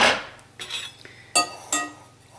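Metal pastry cutter works butter-flavor Crisco shortening into dough in a bowl, giving light clinks and scrapes with a few sharper taps against the dish.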